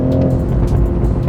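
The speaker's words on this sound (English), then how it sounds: "you get to enjoy the sound of the straight 6" The straight-six engine of a 2019 Toyota Supra in sport mode revs hard with a rough, burbling exhaust note, loud and close, in a short burst.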